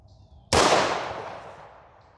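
A single shot from an S&W M&P .40 pistol firing Speer Gold Dot 165gr JHP ammunition: one sharp, loud, close crack followed by a long reverberating tail that fades over more than a second.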